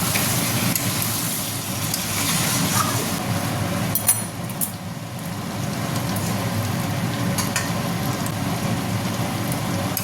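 Mutton fries in a thick spice paste in a wok, a loud, steady sizzle with a few clinks of a spatula, no voices.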